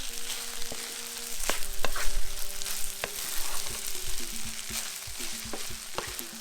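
Shrimp fried rice with a little sweet dark soy sauce is stir-fried in a pan, a close continuous sizzle broken by regular scraping and tapping strokes of the spatula, with no voices.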